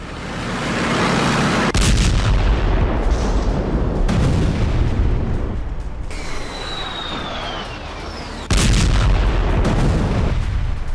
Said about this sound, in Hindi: वो इजराइल के बेहद खतरनाक माने जाने वाले मरकावा टैंकों को एंटी टैंक गाइडेड मिसाइलों से निशाना बना रहे हैं